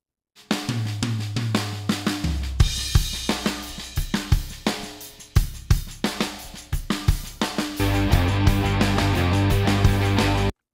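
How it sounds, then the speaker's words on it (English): Full drum mix of kicks, snares and cymbals with a parallel-compressed copy blended in, punchy and dense, playing a steady groove that thickens into a fuller pattern near the end, loud with no voices. "Blend those together, here's our drum sound."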